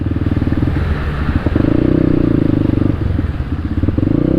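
A motorcycle engine chugs loudly up close with a rough, pulsing putter, steady throughout with slight revving, riding through a flooded street in Malolos City, Philippines.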